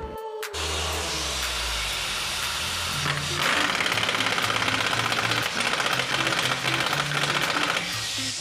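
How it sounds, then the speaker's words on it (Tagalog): Pneumatic air impact tool rapidly hammering as it tightens a nut on a Yamaha Aerox scooter, a loud, continuous buzzing rattle that runs for several seconds, with a brief pause, then a sharper burst near the end. "pwedeng gumamit ng air impact tool or power handle para mahigpitan ito"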